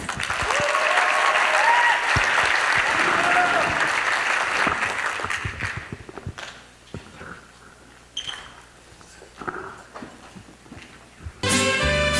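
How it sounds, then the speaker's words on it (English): Audience at a high school multicultural night applauding loudly, a dense burst of clapping that fades into scattered claps, followed by a brief rise of noise at the end. "So please give her a round of applause."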